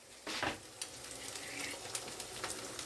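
Ginger paste and cumin-coriander paste frying in hot oil for a jackfruit curry, a faint sizzle with a few soft stirring bursts, quiet and close.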